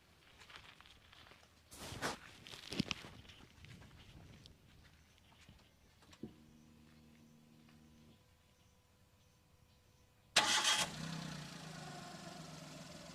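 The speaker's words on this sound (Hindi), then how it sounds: "एक बार इंजन को स्टार्ट करो तो।" A Maruti Alto car engine cranks and catches with a sudden loud burst, then settles into a steady idle rumble; earlier, a door thud and some faint clatter.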